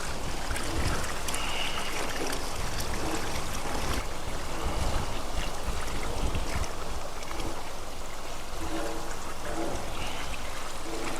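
Water poured slowly onto saltwater-affected farmland gives a faint, continuous trickling and splashing with soft irregular gurgles throughout.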